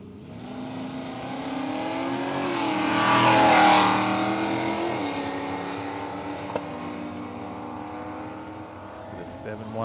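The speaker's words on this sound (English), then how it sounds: "Tirana up against the Capri. The battle of the small old school," An old-school Holden Torana and Ford Capri drag race at Willowbank Raceway, Australia, their engines droning and swelling to a loud roar before easing off, with a track announcer talking over the noise.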